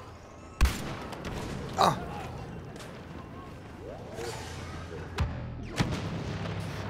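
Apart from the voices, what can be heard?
grenade explosion in video game Star Wars Battlefront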